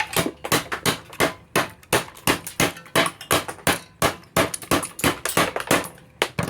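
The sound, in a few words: hammer tapping wood joint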